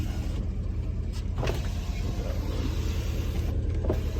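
A Porsche Panamera 4S sits with a steady low rumble in the background while its electric power windows whir, with short motor bursts at intervals.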